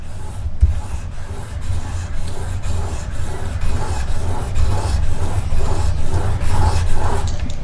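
A broadhead is stroked back and forth on fine 2000 grit abrasive, a steady rhythmic rubbing rasp with a low background hum, close and continuous.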